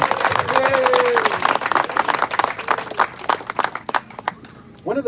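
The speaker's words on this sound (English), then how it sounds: "let's give them a round of applause" Applause and cheering from a crowd at an office headquarters grand opening in Sacramento, dense clapping with scattered whoops and a voice over it, thinning out near the end.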